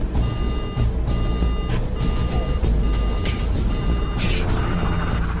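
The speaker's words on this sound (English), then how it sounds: "at 4:43 and 22 seconds, the engine fire alarm sounds" Aircraft cockpit engine fire alarm sounding loudly and steadily, a repeating electronic beeping tone pulsing over a dense roar of engine and cabin noise.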